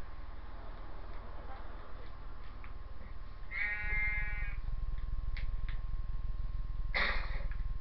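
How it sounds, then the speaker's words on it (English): A sheep in the video game Minecraft gives a couple of short bleats, one around the middle and a brief second one later, over a steady low background hum. "I saw another sheep up here."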